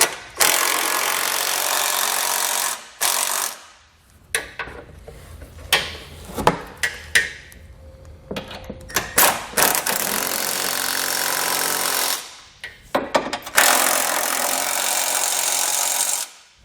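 Power tool snugging down the bolts of a Demco tabless base plate kit on a 2020 Jeep, running in long loud bursts with short stops, clicks and clanks of hardware between, no voices.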